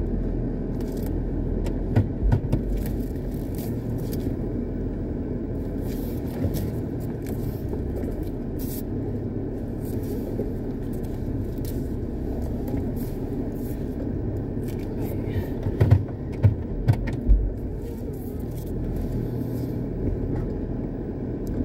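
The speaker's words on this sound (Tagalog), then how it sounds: "Parking ni Nissan Pathfinder 2008." A 2008 Nissan Pathfinder maneuvers into a parking spot with a constant low engine rumble, broken by a cluster of brief thumps and scrapes near the end.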